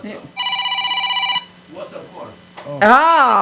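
A telephone rings in one sustained trilling electronic burst on a radio talk show, then a person speaks loudly and nearby.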